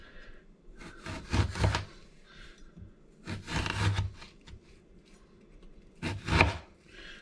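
A knife slices through raw quince for a quince liqueur, cutting it thin; three separate bursts of cutting and rasping against the fruit sound close by, each a second or so long, with quiet pauses between.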